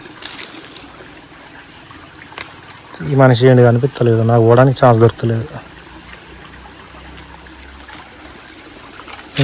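Water flowing continuously at the Sri Bugga Ramalingeswara temple, a steady trickle and stream running throughout, with a person talking over it in the middle.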